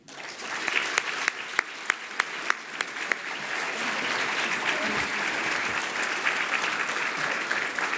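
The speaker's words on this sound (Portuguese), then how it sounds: "sob uma salva de palmas." A round of applause at an academic induction ceremony for a new member of a letters academy, opening with a few sharp individual claps before swelling into steady, dense clapping from the crowd, loud and sustained.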